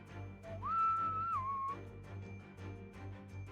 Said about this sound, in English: Did he just whistle in the game?